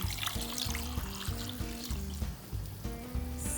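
Boiled pho bones are rinsed in cold water in a kitchen, giving a continuous pouring and splashing wash with a dull rhythmic thumping underneath, fairly quiet and steady throughout.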